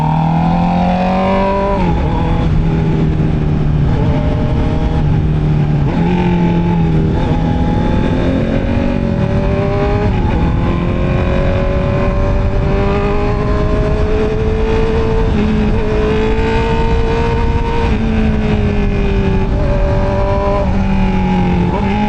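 A Honda CB650R E-Clutch motorcycle with an upgraded air filter, its engine revving loudly and continuously up close, pitch rising and falling through repeated throttle blips for over twenty seconds.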